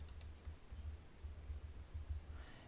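Typing on a computer keyboard, soft rapid taps in short uneven bursts, faint and close, with no one talking.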